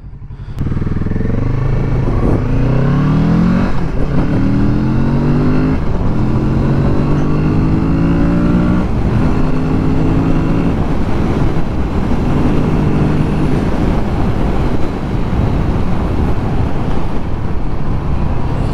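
A Kawasaki Z650 RS retro motorcycle accelerates hard, its engine note climbing steadily through several gear changes in a loud, continuous rising roar heard close up with no talk.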